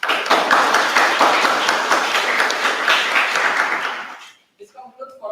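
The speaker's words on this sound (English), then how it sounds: "Please give a big round of applause." An audience at a Python conference class session bursts into a round of applause, dense and sustained for about four seconds before cutting off, followed by a brief voice.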